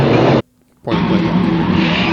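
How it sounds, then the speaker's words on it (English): A Porsche IMSA GTP race car's engine roars loudly and close, cutting out briefly for a split second before the high-pitched, sustained howl returns at full volume. "GTP, you want to hear a Porsche? You can hear a Porsche."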